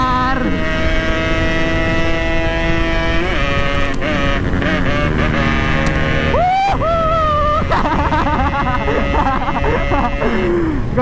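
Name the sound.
Yamaha RX King motorcycle engine revving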